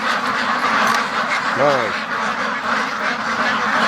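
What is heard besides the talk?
ducks quacking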